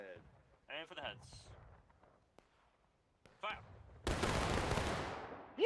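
A musket volley in War of Rights on the Forest Stream map, a sudden massed crack that erupts and rolls on as a loud, lingering roar after scattered shouted commands from nearby voices.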